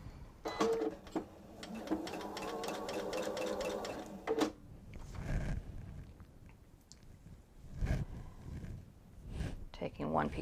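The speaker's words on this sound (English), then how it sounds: "and then I'm going to sew all of the other side on" A sewing machine stitches fabric in a fast, even rattle for a few seconds near the start, then stops while a voice talks over quieter handling sounds.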